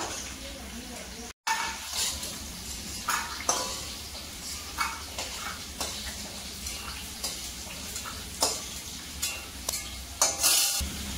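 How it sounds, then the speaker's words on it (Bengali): Bori lentil dumplings fry in oil with a continuous soft sizzle, broken by regular scraping taps of a spoon turning them in the pan, close up and moderately quiet. "এদিকে বড়ি তো আমার ভাজা হয়ে গেছে"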